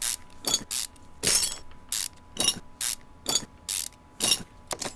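Rapid mechanical ratcheting bursts from an in-game impact wrench removing the timing cover bolts in Car Mechanic Simulator 2015, about ten sharp clattering bursts in a steady rhythm, loud and unaccompanied by speech.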